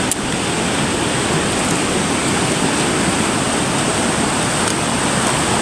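Powerful river water rushes without a break, a loud dense roar of swift current close by, with no voices over it.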